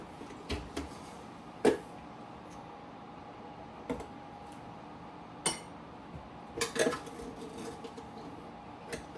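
A spoon is picked up and clinks softly against cups and counter a few times, scattered light ticks over a quiet room, with no talk.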